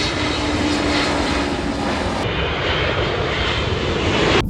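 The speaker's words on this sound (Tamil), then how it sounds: "பார்த்தீங்கன்னு சொன்னால் 4 ஃப்ளைட் வருது ஒன்றுக்கு பின்னால் உண்டு" Airliners landing one after another at Heathrow Airport, London, their engines a loud, steady roar that fills the whole stretch without a break.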